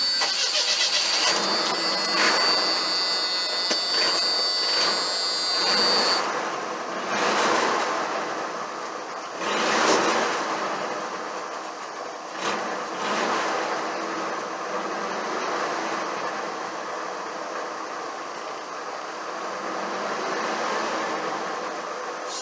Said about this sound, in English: So now we're gonna fire it up, see how she sounds.